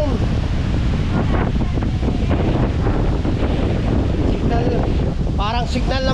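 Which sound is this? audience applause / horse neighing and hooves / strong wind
strong wind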